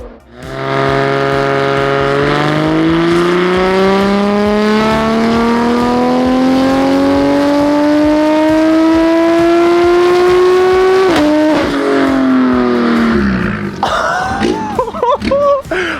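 A loud, close BMW M4 engine, a built 2.6-liter destroked S55 with a big single turbo, revs hard toward 9,000 RPM, climbing steadily in pitch for several seconds, then cuts off with a shift and sputtering pops.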